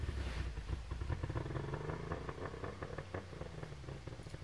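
An outboard motor runs on a flush water hose, a steady close engine drone with a rapid pulsing beat and a continuous rushing background, with no talk.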